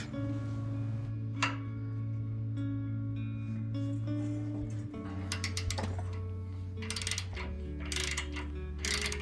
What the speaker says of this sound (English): The first thing we do to get the main bumper off is to remove the 3 flange nuts that you see here.